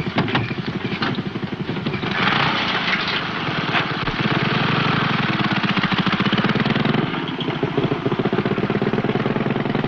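Motorcycle with a sidecar, engine running in a slapstick comedy scene: a loud, rapid, continuous putt-putt of an old engine, chugging steadily for the whole stretch with slight surges, no talking over it.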